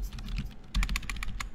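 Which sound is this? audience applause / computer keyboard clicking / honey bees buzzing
computer keyboard clicking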